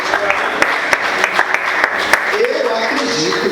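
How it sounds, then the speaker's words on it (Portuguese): A church congregation applauding during a sermon, a dense wash of clapping under loud voices and cheering, close and continuous throughout with a few sharper claps standing out. "Aplauda o nome dele de forte"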